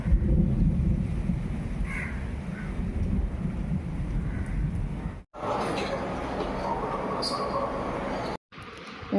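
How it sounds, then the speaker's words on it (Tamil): Thunder rumbles through heavy evening rain, a broad low roll with steady rainfall and some wind buffeting the microphone, briefly dropping out twice. "எடி இடிக்குது."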